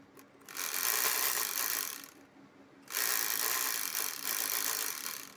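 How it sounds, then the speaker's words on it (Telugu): Sewing machine running a double stitch along a joint, two sustained whirring bursts of rapid mechanical stitching separated by a short pause, close and clear. "ఇది కూడా అంతే, డబుల్ స్టిచ్ వేసేద్దాం"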